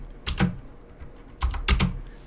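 Computer keyboard typing in two short bursts of quick clustered keystrokes, close and clear with a pause between, no voices.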